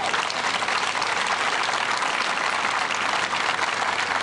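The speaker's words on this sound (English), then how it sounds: "Please give them another round of applause." Sustained applause from an audience honoring city leaders at an anti-violence gathering, dense steady clapping that holds at an even level throughout with no voices.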